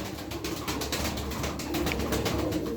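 Aksaray tumbler pigeons coo softly at close range, low repeated throaty calls over a busy background of flapping and shuffling, with no talking.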